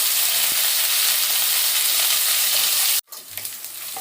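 Chopped onion and ginger sizzle loudly in hot oil in a pan, with whole garam masala and cumin, as the base for khichuri. The dense, steady frying hiss runs unbroken for about three seconds, then cuts off abruptly and returns more quietly.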